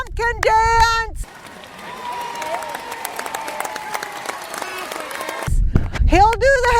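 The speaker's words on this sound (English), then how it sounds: "Okay, guys, you gotta clap really hard." Children and adults clapping hard together during an outdoor farm tour, a steady mid-level applause with a whoop, framed by excited voices shouting before and after.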